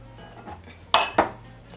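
Toasted spices go into a small bowl with two bright, close clinks of a utensil against the bowl, preceded by soft faint rustling.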